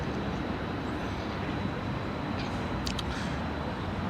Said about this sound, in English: Beautiful little tram.